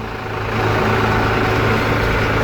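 Red tractor baling hay in a mown field, its engine a steady, loud, low droning hum that swells slightly and then holds constant.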